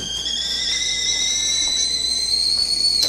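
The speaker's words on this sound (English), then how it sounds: "it's at a rolling boil now" A kettle of water at a rolling boil for coffee gives a steady, close, high whistle that drifts gently upward in pitch without a break.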